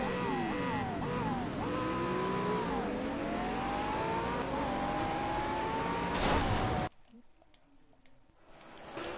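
Race cars in a racing video game accelerate off the start and dive into the first corner, a dense, loud pack of rising engine whines and revving layered together, cutting abruptly to a quieter stretch near the end.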